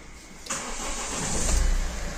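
A Mahindra XUV500 mHawk diesel engine cranks on its self starter and catches, settling into a steady mid-pitched idle that fills the rest of the clip, recorded close up with no talking.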